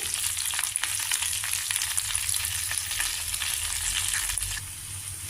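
Capsicum curry with turmeric and salt frying in a pan gives off a constant, close sizzle with faint stirring noises; the hiss eases slightly near the end.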